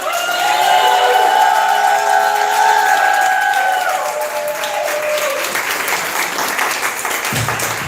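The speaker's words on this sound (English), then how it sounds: "Clap him up." Loud, dense applause from a poetry slam crowd welcoming a poet to the mic, with cheering and whoops riding over the steady clapping throughout.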